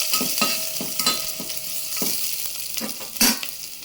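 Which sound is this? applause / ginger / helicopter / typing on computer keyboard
ginger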